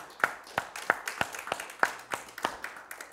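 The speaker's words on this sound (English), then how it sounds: "Give the Lord a hand clap." A church congregation at a worship service claps hands together: about ten sharp, evenly spaced claps at a brisk rhythm, fairly close and moderately loud, with no talking over them.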